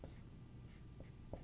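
A math coach writes an algebra equation, and a pen or marker gives faint scratching strokes with a few soft taps over steady background hiss and no talk.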